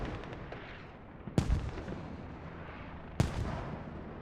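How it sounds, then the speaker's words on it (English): Two heavy mortar shell explosions from Squad land at a distance, spaced about two seconds apart, each a sharp boom with a rumbling tail over a constant low battlefield drone. "Mortars still coming down"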